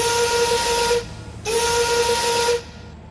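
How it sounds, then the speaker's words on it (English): An old steam whistle shrieks in two loud blasts, the first about a second long and the second longer, with a faint steam hiss between them and no voices. "an old steam whistle sounded out."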